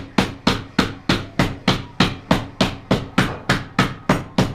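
Steady, evenly spaced hammer blows ring out on metal while forging grill roll-ups, about three strikes per second, loud and close, with no voices.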